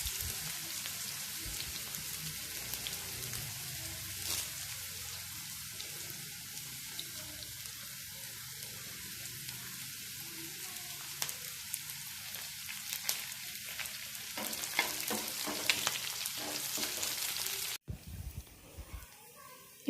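Onions and curry leaves sautéing in a pan for pappadam thoran, giving a continuous hissing sizzle with stirring clatter that grows busier and louder toward the end before cutting off abruptly.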